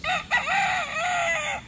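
A single rooster crows a full cock-a-doodle-doo close by, loud and clear with a rising then falling drawn-out call, among a backyard flock of breeding chickens.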